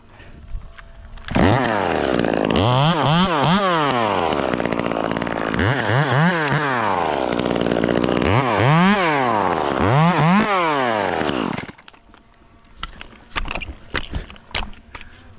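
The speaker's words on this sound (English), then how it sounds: "So I'm just whittling through the tree, and I'm going to take the weight off of this underside." A chainsaw cuts through a tree, roaring loud and close with repeated rising and falling revs for about ten seconds. It then cuts off, leaving scattered clicks and rustling.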